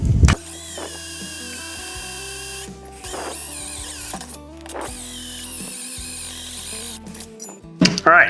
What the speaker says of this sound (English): All right, now that you got your holes drilled,